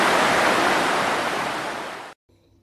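Roaring water of Iguazu Falls thunders as a dense, steady wash of white noise, loud and close, then cuts off abruptly near the end, leaving faint background sound.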